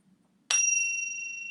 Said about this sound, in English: Just a pure silver bell.